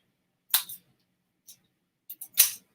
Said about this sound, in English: So I'm gonna just cut a bit of foam strip.